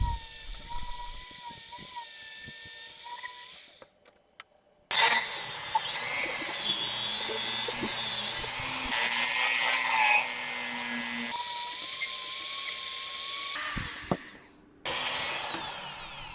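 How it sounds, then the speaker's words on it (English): A high-pitched power tool whines steadily in bursts with brief pauses, drilling a hole through a small disc and cutting around it into a ring up close, the pitch shifting as the load changes. "I'm drilling a hole through it. And now I'm cutting around that hole to make a little ring."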